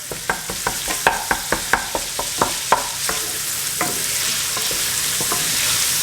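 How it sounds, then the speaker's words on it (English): Sausage sautés in a pan for orecchiette with broccoli rabe: a steady hiss of frying runs throughout, with a quick series of spatula scrapes and taps early on, then quieter occasional stirs, close and clear with no talking. "we've got a nice saute coming on here."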